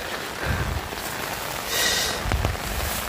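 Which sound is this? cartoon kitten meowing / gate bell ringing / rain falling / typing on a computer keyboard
rain falling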